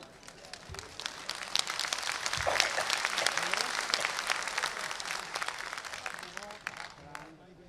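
Crowd applause at a political rally addressed by Swami Prasad Maurya, sustained clapping from a large audience lasting several seconds before tapering off, with voices mixed in beneath it.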